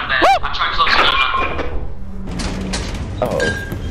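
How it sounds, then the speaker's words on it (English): A door closing in the video game Lethal Company, with mechanical clunks and a sliding rumble over game sounds and a rising tonal sweep at the start, loud and close. "I'm trying to close the door."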